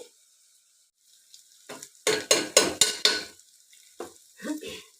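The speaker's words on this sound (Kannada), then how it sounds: "ಈಗ ಸ್ವಲ್ಪ ಇದನ್ನು ಚೆನ್ನಾಗಿ ಫ್ರೈ ಮಾಡಿಕೊಂಡು, ಅದು ಫ್ರೈ ಆಗಲಿ." Food fries in a pan while a utensil stirs it, sharp scraping sizzle bursts coming in a quick cluster, then a couple of shorter stirs after a pause, near and clear without talk.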